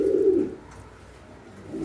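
Pigeons kept for sale give a short, low coo up close, followed by a pause and the start of another coo.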